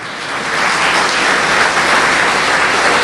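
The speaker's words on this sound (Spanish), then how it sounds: "Dele palmas al Señor." Steady, dense applause from a church congregation during a Spanish-language sermon, sustained and evenly loud across the whole stretch with no voices above it.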